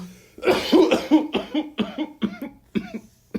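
A person coughs repeatedly after a vape pen hit in a rough, hacking fit of about eight bursts, close and loud, with no talking.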